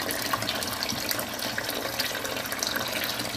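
Steady running water pours over an iPhone 5 sealed in a LifeProof nuud waterproof case, a continuous close hiss and splash with no pauses.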